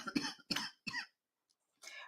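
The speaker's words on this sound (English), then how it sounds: "I start coughing" A man coughs three times in quick harsh bursts close by, followed by a pause and a fainter fourth cough, with no talking.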